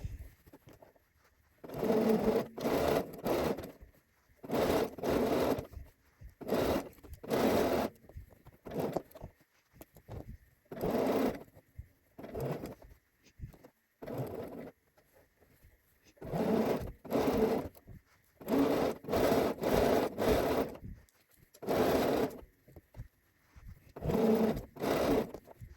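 A domestic sewing machine topstitches around a dress neckline in repeated bursts of rapid stitching, each run a few seconds long and separated by short pauses, close and steady, with no voices.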